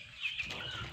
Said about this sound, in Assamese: ইয়াতে আছে গেনি ফাউলৰ পোৱালি